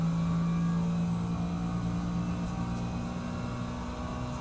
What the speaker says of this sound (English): You can hear that, love that engine sound.